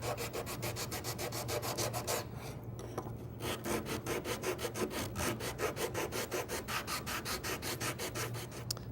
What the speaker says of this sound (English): Sanding block makes quick work of that.